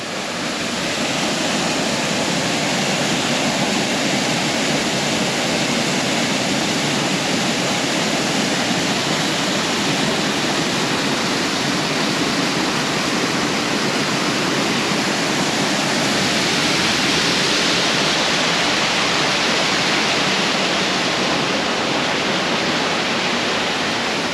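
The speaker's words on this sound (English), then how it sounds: "having this waterfall here in front of them" Steady, loud rush of a waterfall in Spili village on Crete, a continuous broadband roar that holds without pause and with no voices.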